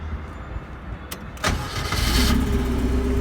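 A K20-powered Mazda Miata cranks briefly, catches with a loud rising roar, and settles into a steady, close idle with a faint whine over it.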